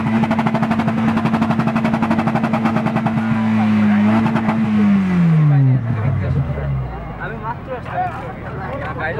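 Toyota Trueno with a 3SGTE engine revved to the rev limiter in a motor show parking lot, a rapid stuttering limiter chatter that holds, then the revs fall away into idle rumble, with people talking nearby.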